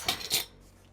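A tool cuts off a piece of modelling paste for a teddy bear cake topper, two quick scraping clicks against a hard surface, close and fairly quiet, then near silence.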